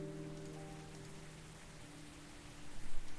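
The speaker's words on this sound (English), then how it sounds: "Oh, it's raining." Steady rain falls in the video game Coffee Talk, a soft, even patter on a surface with a faint background tone that fades partway through, growing slightly louder toward the end; no one speaks.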